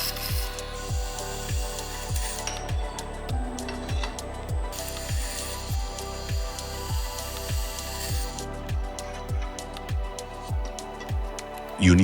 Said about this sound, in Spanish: Taladramos todos los agujeros.